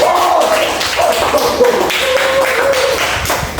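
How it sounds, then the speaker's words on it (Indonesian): A classroom of students clapping their hands together, a steady patter of many claps close by with voices talking over it. "Oke, tepuk tangan."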